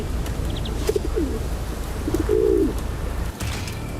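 Near the Amarnath cave, a pigeon-like bird gives short soft coos and a longer rolling coo, moderately close over a constant wind-like hiss, with a few faint chirps mixed in.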